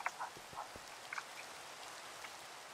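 Soft, steady video game rainfall hiss in Minecraft at low volume, with a few scattered drops and small splashes standing out near the start.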